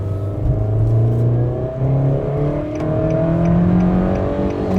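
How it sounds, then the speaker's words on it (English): A 2016 Nissan Versa Note SR engine roars steadily under hard acceleration, a loud, sustained rising drone that is close and continuous, with no talking. "once you actually step on it a little bit more, the engine kind of roars really loudly"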